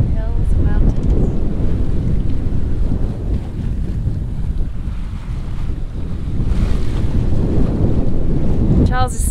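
Wind roars across a sailboat cruising at sea off St Vincent and the Grenadines, making a loud, constant rush of wind buffeting mixed with waves washing against the hull.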